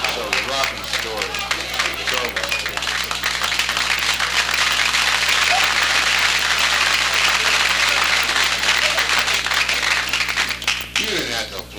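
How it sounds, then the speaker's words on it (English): Comedy club audience applauding a stand-up comedian, a dense steady wash of clapping that holds for most of the stretch and thins at the end, with laughter and voices mixed in. "You didn't have to applaud"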